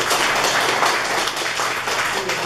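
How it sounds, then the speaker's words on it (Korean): Alumni at a Seoul National University Georgia chapter general meeting applaud, a steady, dense burst of many hands clapping, fairly loud and continuous for the whole stretch. "자, 박수."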